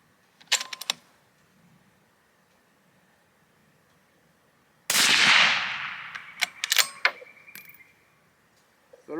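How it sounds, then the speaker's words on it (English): A .223 Ackley Improved rifle firing 60 gr V-Max loads, one sharp nearby crack followed by a loud blast, then metallic clicks and clatter of the action, with quiet pauses between. "We'll do the first 5 shots at 26 grains here."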